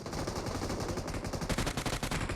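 Automatic gunfire in the mobile game PUBG Mobile crackles in rapid, dense bursts throughout, loud and close, with the shots growing sharper and more distinct toward the end.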